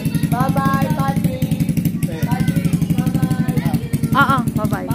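A motorcycle engine idles with a steady, throbbing low pulse in a residential subdivision in Lancaster New City, General Trias, Cavite, running continuously beneath several people chatting nearby.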